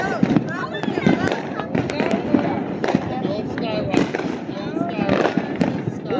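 Fireworks pop and crackle in quick, irregular bursts at an outdoor Juneteenth celebration, sharp reports scattered across the stretch beneath people talking nearby.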